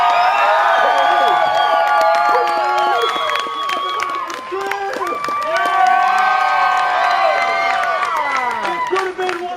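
A lively audience at a staged comedy event cheers, shouts and claps continuously, loud and close, with excited voices and whoops overlapping throughout.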